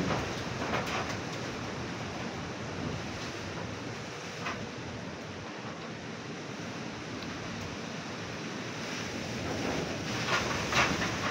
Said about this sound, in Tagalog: Hindi pa makakatulog sa sobrang lakas ng hangin.